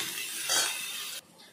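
Potatoes seasoned with salt and turmeric fry in a pan with a bright, close sizzle. A brief stirring scrape swells in the middle before the hiss drops away abruptly.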